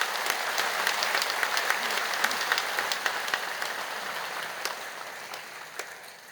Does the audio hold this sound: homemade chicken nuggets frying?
no